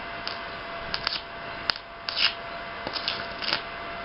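Irregular crackling and sputtering bursts from arc welding with a Multipro 125A welder under repair for a faulty 24V power supply and PWM, run at its lowest current setting. The bursts are close and fairly steady, with no talking.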